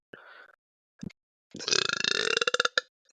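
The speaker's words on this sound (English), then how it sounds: "Actually, I do know why I burped." A loud, drawn-out burp after drinking Diet Dr Pepper, rising into a rough, pulsing belch near the mic with a few short gulping croaks before it.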